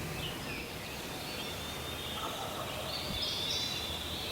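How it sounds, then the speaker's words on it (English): A wild turkey gobbles in the distance during early-morning turkey season, a faint call set against steady outdoor ambience with no voices. "I heard my first gobble."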